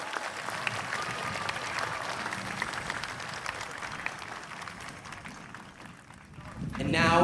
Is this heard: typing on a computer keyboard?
no